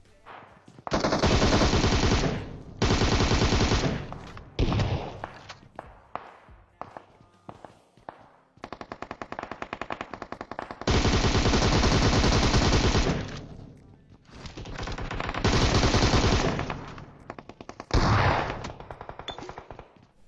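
Bursts of automatic gunfire from the PUBG Mobile battle royale game, several loud sustained volleys separated by short pauses, with scattered single shots and some footstep-like thuds between them.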